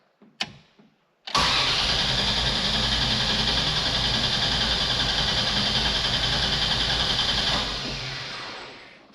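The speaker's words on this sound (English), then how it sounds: "push the gas pedal all the way to the floor and turn the engine over and" A 1975 car engine cranks repeatedly with the gas pedal floored, a loud, continuous whirring churn that runs for several seconds, then fades without catching, a hot-start problem.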